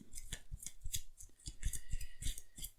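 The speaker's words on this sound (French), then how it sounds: "quand je dois mélanger un petit nombre de cartes, je mets d'autres cartes très faciles à distinguer" A small number of playing cards are shuffled by hand during a card game. Quick, close, crisp papery snaps and slides come in an irregular series of bursts, with no other sound around them.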